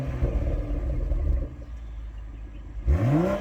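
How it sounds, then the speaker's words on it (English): Exhaust note of a 2021 Toyota Supra GR with two big exhaust tips: a loud, steady rumbling idle close by, then a sharp rising rev near the end. "have a listen to the exhaust note because it sounds incredible"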